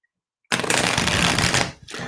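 A Light Seer's Tarot deck is riffled and shuffled close up, a brisk papery flutter lasting over a second after brief silence.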